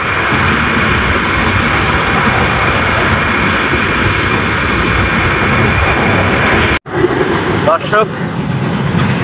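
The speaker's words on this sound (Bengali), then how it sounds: "আমরা এখন ট্রেনে আছি, যাচ্ছি পীরগঞ্জ" Inside a moving train, a loud constant rumble and rattle of wheels on rails fills the cabin, with a sudden brief break followed by squealing and renewed clatter while a person speaks briefly.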